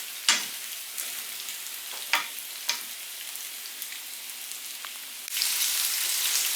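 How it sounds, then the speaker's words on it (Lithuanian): Sliced zucchini sizzles steadily in a hot pan, with a few sharp utensil scrapes and clinks as it is stirred, then the frying hiss swells louder near the end; no talking. "Kol cukinija kepa"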